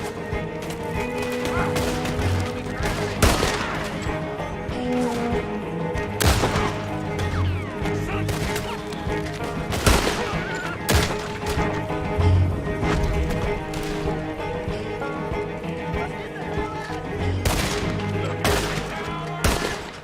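Gunfire in the video game Red Dead Redemption 2, repeated sharp shots scattered over a constant bed of horse hooves, wagon rumble and game noise, with several loud bursts spaced throughout.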